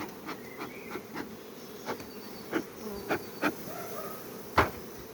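Honey bees buzz close by around a beehive with its grate fallen out and bees spilled onto the ground, a dense steady hum broken by sharp knocks and taps from handling.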